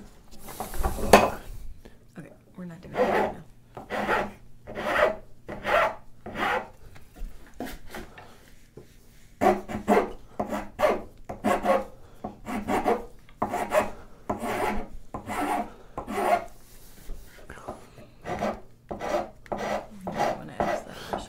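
Wood being shaved to form a chamfer along the nose of a wooden grooving plane body made from firewood, heard as a long run of regular, close rasping strokes, each a short scrape with brief gaps between, with no speech over them.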